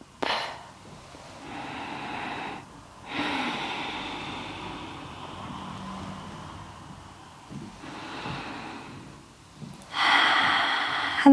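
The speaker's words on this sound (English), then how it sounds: "Breathing deep." Long, slow breaths drawn in and let out during a vinyasa yoga flow, each one lasting several seconds with quiet pauses between, close and fairly soft.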